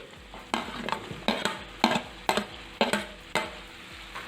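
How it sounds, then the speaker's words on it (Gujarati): Onions and tomatoes sizzle in a frying pan for a Kathiyawadi potato-onion curry, with a spoon scraping through them in regular strokes roughly every half second over a constant close frying hiss. "પહેલાં ટમેટાં ઉમેરીને આવી રીતે મિક્સ કરી લેવું પછી ડુંગળી ઉમેરી દેવી"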